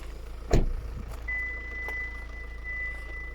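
A single steady electronic warning tone sounds from a Hyundai Santa Fe 2.2-litre diesel with its key not inside, a continuous beep held over a low engine idle, with a brief thump near the start.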